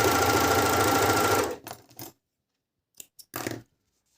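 An ELNA 904DE overlock sewing machine runs fast and loud as it cuts and stitches fabric, then stops abruptly, followed by a few brief mechanical clicks and rattles.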